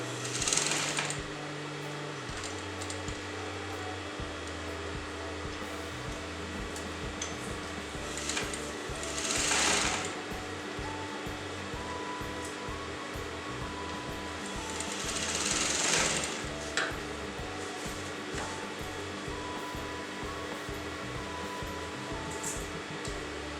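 A sewing machine runs steadily, stitching kalamkari fabric onto a kurta neckline with a rapid, even needle rhythm. The sound is close and continuous, with a few brief swells of louder noise.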